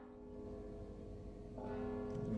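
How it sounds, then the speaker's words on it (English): A bell rings in the video game Mark of the Ninja, faint sustained tones that swell slightly louder toward the end. "Don't you hear the bell?"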